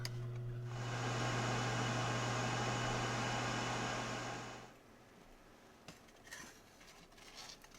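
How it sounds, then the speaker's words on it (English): Air fryer cooking fish at 375 degrees, a steady loud whirring fan hum with a low tone that runs for several seconds, then cuts off, leaving faint clicks and rustling. "So we're going to air fry the fish at 375 for about"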